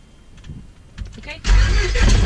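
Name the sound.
aircraft engine starting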